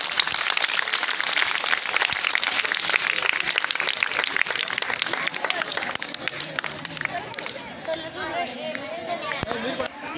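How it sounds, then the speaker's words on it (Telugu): An audience at a school function applauds to welcome a guest, with dense, continuous clapping and crowd noise throughout. The sound stays loud and close and fades slightly toward the end. "ఒకసారి ఆయనకి స్వాగతం సుస్వాగతం చప్పట్లతో"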